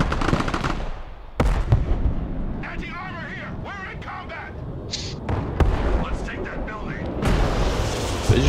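HIMARS rocket artillery firing in the Broken Arrow war game, loud booming launches and blasts scattered through a busy battle soundscape, with voices talking over the combat.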